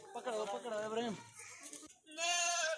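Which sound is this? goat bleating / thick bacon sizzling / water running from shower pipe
goat bleating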